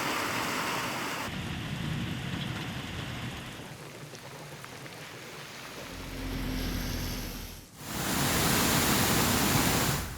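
Heavy monsoon rain pours down steadily in the Konkan region, a dense roar of water on surfaces that shifts in texture, dips briefly near the end, then surges back loud and continuous.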